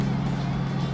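A Lamborghini Huracán EVO engine drones steadily from inside the cabin while driving, a loud, even low-pitched roar with no break.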